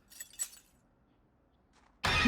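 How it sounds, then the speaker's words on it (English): Window glass breaking in Project Zomboid: after a couple of faint clinks and near silence, a sudden loud shatter bursts in at the end. "I'll have to pull the glass out."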